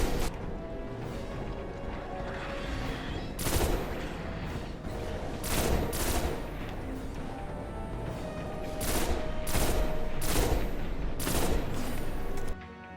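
Pulse rifle fire in the video game Destiny: The Taken King comes as loud, sharp bursts of rapid shots in irregular clusters over a steady game background, with no talking.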